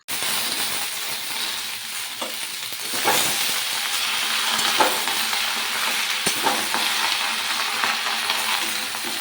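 Potatoes, Malabar spinach and pumpkin fry in a pan seasoned with panch phoron and hing, stirred with a utensil. A continuous close sizzle carries scraping strokes and occasional metallic taps against the pan.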